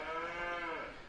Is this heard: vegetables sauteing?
no